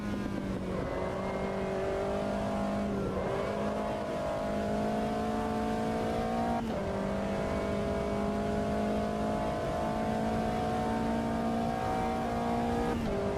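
A formula race car engine in the racing game Automobilista 2 drones steadily at high revs, its pitch shifting up and down with gear changes, continuous and fairly loud with no voices.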